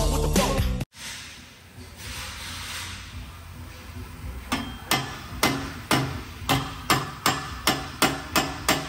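Metal hammer blows during transmission removal on a Chevy Silverado, a few strikes at first and then a steady run of regular, sharp, ringing hits close by in a garage.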